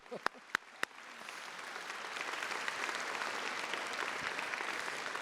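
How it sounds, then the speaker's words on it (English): Audience applause at a university honorary degree ceremony, with a few sharp claps first, then a sustained, even wash of clapping from a large crowd at moderate distance. "that deserves a special round of applause"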